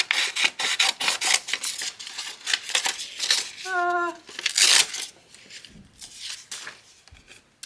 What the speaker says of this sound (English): step one is going to be cutting out your template